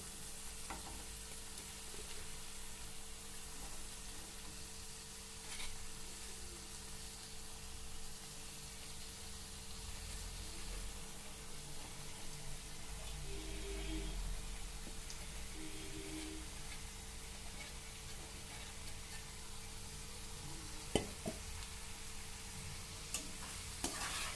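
Boiled pasta is stirred through a frying pan with salt, giving a soft, steady sizzle and faint scraping that runs throughout, quiet and close.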